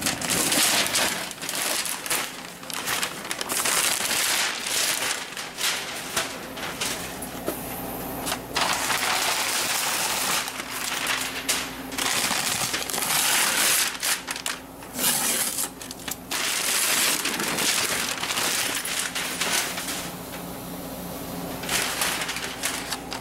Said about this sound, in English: he wants to see me unwrap tape stuff